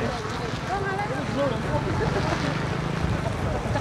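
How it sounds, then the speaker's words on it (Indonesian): Strong wind roaring steadily against the microphone outdoors while a kite is flown on a road, a continuous buffeting rush with a voice speaking briefly over it. "Anginnya kencang banget."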